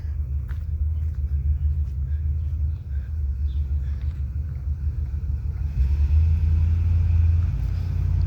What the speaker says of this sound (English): There's somebody's loud car.